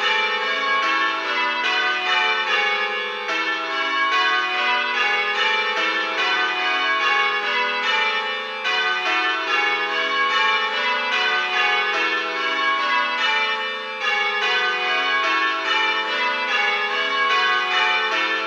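Church bells ring in change ringing, plain hunt into Little Bob Minor, a steady even stream of overlapping bell strikes at a brisk rhythm, clear and continuous with no voices.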